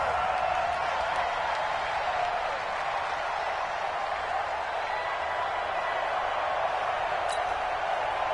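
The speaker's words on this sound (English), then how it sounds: "The crowd here in the Dome making things difficult." Steady, loud stadium crowd roar inside a domed arena in an American football video game on PS4, a continuous wash of cheering and noise with no clear breaks and no talk over it.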